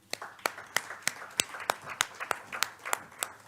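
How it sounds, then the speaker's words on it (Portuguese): Applause from a conference audience welcoming a doctor to a panel on chronic illness and ageing, heard as a fairly faint, steady patter of claps with sharper individual hand strikes standing out. "igualmente uma salva de palmas"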